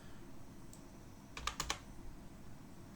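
Quick burst of keystrokes on a computer keyboard, a short cluster of sharp clicks in the middle over faint room hiss, with no talking.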